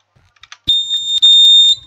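A Simplex speaker strobe fire alarm in a Roblox mall sounds a loud, sustained electronic tone after a few faint clicks, with a brief dip and then a steady high pitch to the end.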